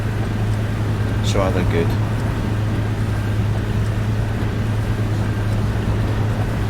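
In the Fernbus Simulator game, a bus engine drones with a low, steady hum under continuous conversational talk, joined by a brief higher whine.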